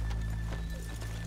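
Horses' hooves clip-clop at a steady walking rhythm in Red Dead Redemption 2, close and clear over a low steady hum, with a brief whinny mixed in.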